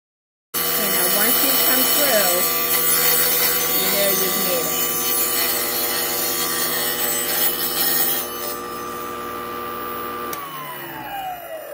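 A power saw blade cuts steadily through a clamped wooden piece for a plier stand, a loud continuous whining rasp that shifts pitch midway, then the motor winds down at the end.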